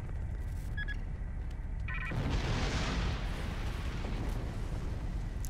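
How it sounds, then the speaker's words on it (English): Explosions going off, a steady deep rumbling roar that swells into a broad burst about two seconds in and then rolls on, fairly loud with no voices. "I like all the explosions."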